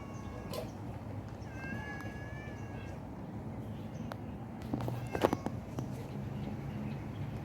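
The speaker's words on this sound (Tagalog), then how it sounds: "May pusang gutom." A hungry cat under the trees in a park in Dubai meows several times, short cries spread across the clip, moderately near over a low outdoor hum with faint birdlike chirps and no talking.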